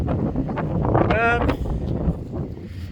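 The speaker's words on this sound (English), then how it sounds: "Yeah, the wind's got up, just like I said, because we're high up here." Wind gusts across a high, remote churchyard, buffeting the microphone with a steady low roar and brief louder surges, while a faint voice is heard briefly.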